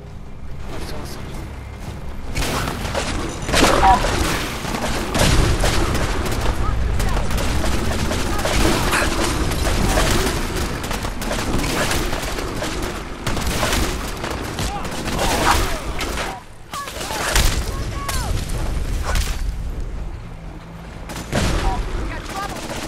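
Gunfire in a Fallout 4 Far Harbor battle against gulpers in the fog, dense overlapping shots and booms sustained over many seconds with brief pauses, loud and close, with voices shouting at times.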